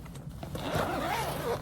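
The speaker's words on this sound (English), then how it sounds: "Where is the zipper?" Zipper on a baritone ukulele case drawn open in one long close rasping pull, preceded by faint handling noise.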